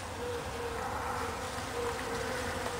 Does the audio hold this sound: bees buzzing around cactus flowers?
yes